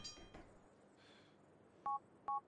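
Phone keypad dialing in Grand Theft Auto 4: two clear electronic DTMF beeps, evenly spaced, over a quiet low game ambience with a faint soft thump early on.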